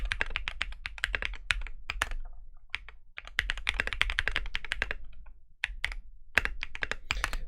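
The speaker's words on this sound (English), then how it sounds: "this thing is a loud ass keyboard as it stands right now" Loud mechanical keyboard, a Frog build, being typed on up close: fast bursts of sharp clacky keystrokes with brief pauses between runs and no talking.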